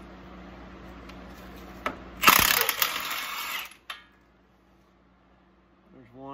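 A ratchet with a 13/16 socket works a hub nut on a Super Duty wheel hub, a loud burst of mechanical clicking and grinding lasting about a second and a half before falling quiet.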